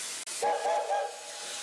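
A coal-powered historic steam locomotive, a former Pittsburgh mill engine at a steel heritage museum, lets out a loud, close hiss with a brief whistle-like tone, alone and steady.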